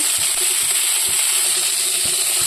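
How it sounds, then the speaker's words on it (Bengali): A hilsa fish head fries in hot oil, making a loud, continuous sizzle and crackle with small pops and no talk over it. "এবার ভালো করে ভেজে নেব দিয়ে দিলাম ইলিশ মাছের মাথা"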